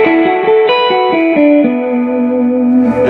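An electric guitar through a small 10-watt amp with internal reverb plays a short descending run of distorted notes that ends on one sustained note, which rings out and fades with reverb.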